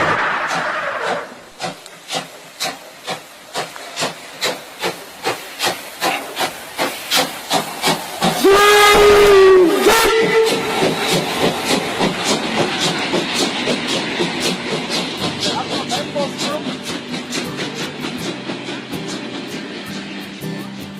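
A train opens a country radio intro with rhythmic rail clacks that quicken, a bright steam whistle blast partway through, then a long hissing, rumbling roll as the train keeps moving.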